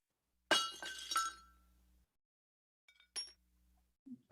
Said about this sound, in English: Suppose this is glass is breaking.